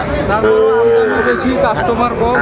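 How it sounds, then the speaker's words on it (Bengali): A crossbred bull calf at a busy cattle market gives a sustained, loud moo lasting the whole moment, with faint crowd chatter behind it. "আমরা দেখছিলাম ক্রসের ষাঁড় বাচ্চা"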